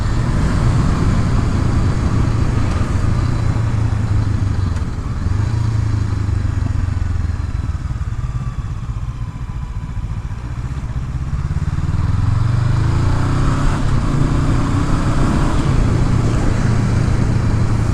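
A Honda CB500F with ABS rides along a road, its engine giving a steady, loud drone mixed with road and wind rumble throughout, with no talk.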